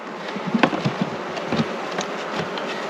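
A honey bee swarm fills the air with a dense, steady buzzing hum, with a few louder wingbeat bursts from bees passing close by early on.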